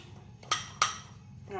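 A spoon mixes Dijon mustard in a bowl, striking the side in two quick, bright clinks close by, followed by a faint voice.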